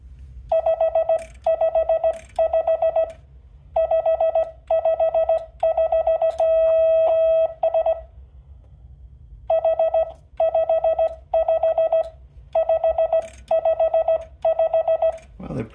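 Steady, high-pitched Morse code beeps sent on telegraph bug keys at about 15 words a minute, quick rhythmic bursts with short pauses between groups, clear and alone over a faint hum.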